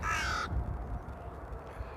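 Crows caw at Amsterdam Airport, one harsh, loud caw at the start and then low rumbling outdoor ambience.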